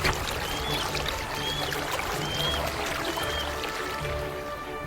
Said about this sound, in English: Glacial rivers and waterfalls roar with sheer force through the valleys.